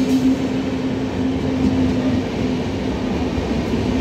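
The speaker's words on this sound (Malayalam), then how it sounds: "ഈ വരുന്നത് Nizamuddin to Ernakulam Mangala Lakshadweep superfast express ആണ്" The Nizamuddin–Ernakulam Mangala Lakshadweep Superfast Express pulls in at a station, its steady loud rumble of rolling wagons filling the scene with a low hum running through, no one speaking.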